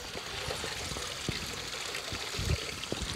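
Water pours steadily into a backyard koi pond stocked with lilies and potted plants, a continuous close splashing stream with small irregular plops, alone and fairly soft.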